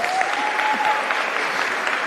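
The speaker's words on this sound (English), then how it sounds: "Let's give them another big warm round of applause" Warm, sustained applause from an audience at a 2024 provincial sport awards ceremony, with many hands clapping steadily and a faint tone and voices blending in beneath.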